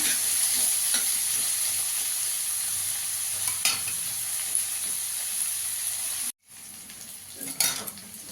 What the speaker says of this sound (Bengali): আলুটা দিয়ে একটু পেঁয়াজের সঙ্গে ভালো করে ভেজে নেব